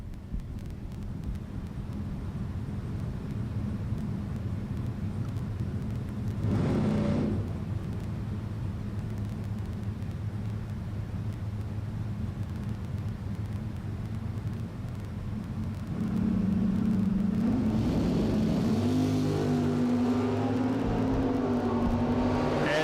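Drag racing cars at a bracket race, including a 1955 Chevrolet and a wheelie-popping car, rumble at the line and then roar off down the strip, with engine tones rising as they accelerate away in the distance.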